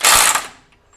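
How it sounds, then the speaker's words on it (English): FLEX 24V compact impact wrench in auto mode, running in reverse to break a fastener free: a loud, close rattling hammer burst of about half a second that cuts off abruptly when the tool stops itself. "as soon as it senses that it's broken free that fastener, it stops the tool"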